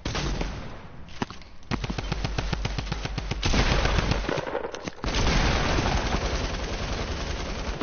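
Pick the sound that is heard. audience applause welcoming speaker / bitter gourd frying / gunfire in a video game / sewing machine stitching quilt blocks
gunfire in a video game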